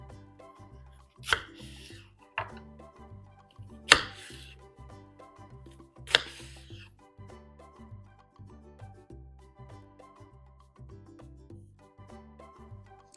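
A knife chops onions, tomatoes and coriander on a board, quiet regular taps in a steady rhythm with a few sharper, louder cuts, close up and without talk.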